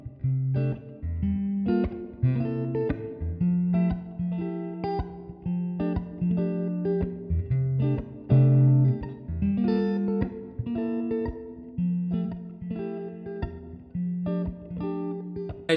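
Lo-fi hip hop guitar strums a bright jazz chord progression with major seventh chords, mellow sustained chords changing every couple of seconds and played alone with no voices.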